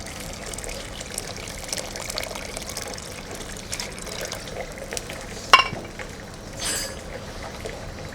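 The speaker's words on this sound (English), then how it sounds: "Going to add the rest of our water" Water pours into a pot of spiced rice on the stove, a steady liquid rush with a few drips and a sharp clink of the pot partway through, and no talking.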